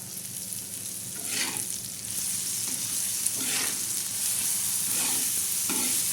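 Hand-ground garlic chutney fries with potatoes in a pan for a rustic potato chutney, a constant close sizzle broken by several soft stirring scrapes, with no talking.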